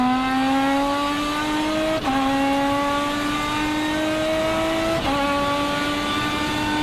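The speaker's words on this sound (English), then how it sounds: "say goodbye to that sweet purr of Britain's compact sports car" A gas-powered Lotus compact sports car engine revs hard through the gears, pitch climbing steadily then dropping at two quick upshifts, loud and close with no talk.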